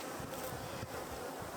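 Honey bees swarming around an open hive during a frame inspection, a continuous low buzzing hum close by, steady and moderately faint with no voices.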